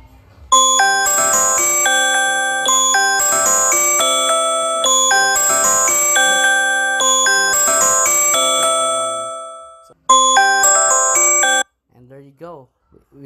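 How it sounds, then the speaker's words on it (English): An alarm tone set off by an Android plugin demo plays a repeating chime-like melody in loud bursts that pause, then resume briefly before stopping, with a person speaking afterward. "Don't worry, the alarm will trigger."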